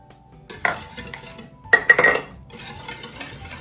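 Eggs, sugar and oil for pumpkin muffins are stirred in a bowl, the utensil clinking and scraping against the sides in a short burst, then a busier cluster of knocks, over quiet room tone.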